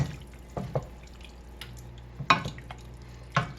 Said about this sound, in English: Now what I'm going to do is I'm going to add some water.